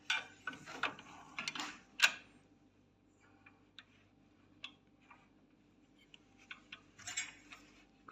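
A bolt is tightened with a ratcheting wrench while a sliding panel saw is set up, giving quiet clicking ratchet strokes in short bursts with pauses between them.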